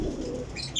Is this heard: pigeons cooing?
yes